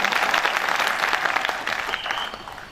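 Audience at a live Hindi poetry recital in Mandsaur breaking into a burst of clapping, dense and sustained at first and then slowly thinning out over a few seconds, with no voices over it.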